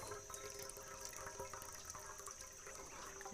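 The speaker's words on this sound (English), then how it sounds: "the water's running really slow" Water running slowly from a tap, a faint, thin steady trickle with a persistent high tone, quiet and continuous with no voices over it.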